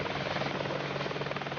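A military helicopter flying near a French amphibious assault ship, a continuous loud rotor thrum with steady rapid beating and engine whine throughout, no talk.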